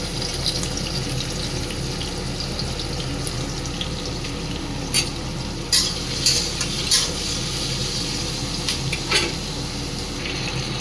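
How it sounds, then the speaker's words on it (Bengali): Prawns frying in a pan for a prawn and taro dish, stirred with a few sharp scraping knocks against the pan over a steady close hiss and bubbling; no one speaks. "এই যে চিংড়ি মাছটা একটু ভাজা ভাজা হয়ে গেছে"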